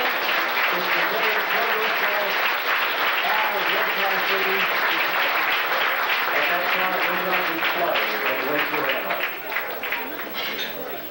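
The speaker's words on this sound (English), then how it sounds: "A big round of applause." A banquet audience at a 1983 club dinner breaks into loud, sustained applause filling the hall, dense and continuous with some crowd voices mixed in, tapering slightly at the end.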